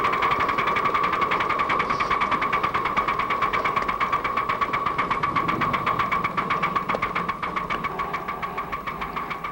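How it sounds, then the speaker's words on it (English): A live steam locomotive chugs steadily in a fast, even rhythm as it works up a 1.5% grade, a continuous mechanical pulsing heard from close by. "The engine's pulling right along now."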